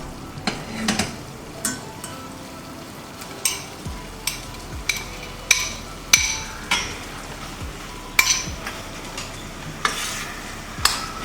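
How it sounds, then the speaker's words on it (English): Cooked penne is stirred into arrabbiata sauce in a pan, a soft bubbling sizzle underneath repeated sharp spoon-on-pan knocks and scrapes at an irregular pace, close and without speech. "Now into this we'll be adding the cooked pasta."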